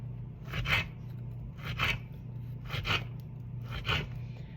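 A knife slices through dates on a cutting board in a home kitchen while overnight oatmeal jars are prepared, giving four evenly spaced soft cutting strokes close up over a low background hum, with no talking.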